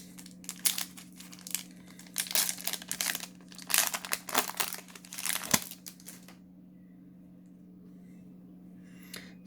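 Crinkling and tearing of a Yu-Gi-Oh Blazing Vortex booster pack's foil wrapper, close and loud, in bursts for about six seconds before going quiet, over a steady low electrical hum.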